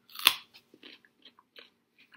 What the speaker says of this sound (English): Kind of like a normal, crispy, crunchy, yummy carrot.